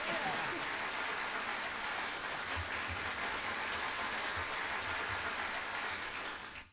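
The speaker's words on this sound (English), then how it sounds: "Let's get a round of applause for that" A round of applause during a radio live stream, a steady, fairly faint wash of clapping that runs for several seconds, with a low murmur of voices beneath it.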